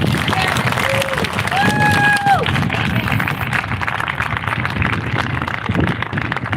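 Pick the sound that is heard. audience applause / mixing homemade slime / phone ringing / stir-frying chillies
audience applause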